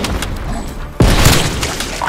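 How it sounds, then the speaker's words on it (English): A sudden booming explosion in Call of Duty: Black Ops Cold War cuts through a busy background of game noise and rumble, followed by rolling crashing debris. "Explosions."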